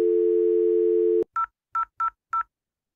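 On a telephone line during a telephony training session, a steady dial tone holds for over a second and then breaks into four short, evenly spaced beeps.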